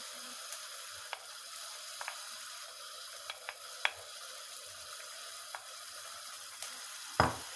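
Onions are stirred into chicken liver frying in a pan. The steady hiss of sizzling continues throughout, broken by small ticks and clinks of stirring, with a louder scrape near the end.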